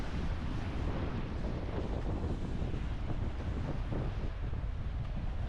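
Constant heavy roar of wind and surf on a rocky shore in Sweden, loud and unbroken throughout, with the wash of waves blurred by strong wind buffeting the microphone.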